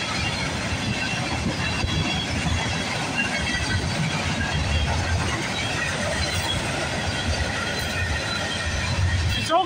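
A Norfolk Southern freight train rolls steadily past at Bayview Road, its loud continuous rumble of wheels and cars filling the scene with faint squeals, unbroken from start to finish.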